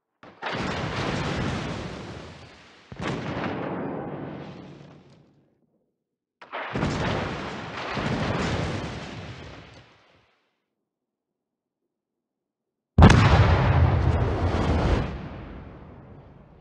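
Heavy naval artillery salvos from warship guns in World of Warships during a ranked match with the Skane: four loud, booming bursts, each rolling out into a long rumbling tail, separated by brief silences, with no talk.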